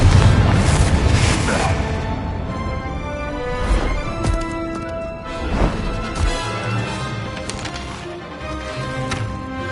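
Confringo blasting curse explosions in Hogwarts Legacy on PS5: a series of loud crashing booms and cracking impacts spread across the stretch, each burst trailing off into a noisy, ringing combat backdrop.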